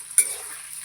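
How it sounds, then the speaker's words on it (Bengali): Paneer cubes drop into hot white oil in a wok, giving a sudden short sizzle burst that settles into a soft, fading hiss within a second. "পনিরগুলোকে সব আগে ভেজে নেব"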